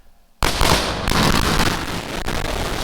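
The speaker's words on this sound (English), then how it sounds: "that sonic boom was great for us" Deep rumbling boom from returning rocket side boosters breaking the sound barrier, a sudden loud onset after near silence, then sustained broad crackling roar that stays loud throughout with no voices.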